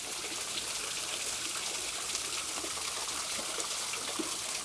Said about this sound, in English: right here, number 14, is this cool little waterfall